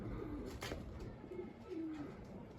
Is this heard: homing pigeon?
yes